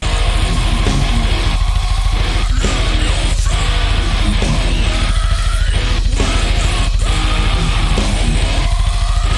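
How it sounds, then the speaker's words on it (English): Harsh false chord metal screaming, the fry style of extreme vocals, roars loud and continuous over a dense, driving band backing, with brief breaks in the din every second or so. "today I'm going to teach you how to scream with your false chords."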